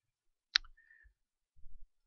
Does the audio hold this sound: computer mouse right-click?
yes